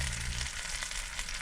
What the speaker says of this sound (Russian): Один кусок самый большой не поместился в сковороду, поэтому буду дожаривать вот сейчас отдельно.